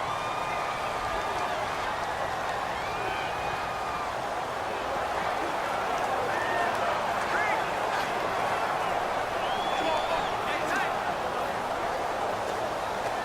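A steady, roaring stadium crowd in the Madden 18 football game, a constant wash of cheering and noise with a commentator talking over it throughout.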